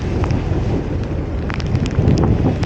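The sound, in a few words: heavy rain in the mangrove forest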